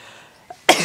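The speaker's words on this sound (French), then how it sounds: "à tes souhaits" A single sharp sneeze bursts out at close range after a brief quiet moment and a small intake of breath.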